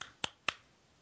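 Two sharp, quick hand claps land about a quarter second apart, crisp and close, followed by quiet.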